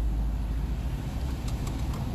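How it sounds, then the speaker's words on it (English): Ford Mustang fitted with a Roush engine running steadily, a low continuous rumble that stays close and even throughout with no talk. "I love that Roush engine."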